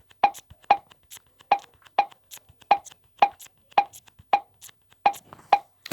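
Crisp, bright pop sounds from an antistress video game, repeating about a dozen times in a steady rhythm, often in close pairs, near and clear with no talk over them.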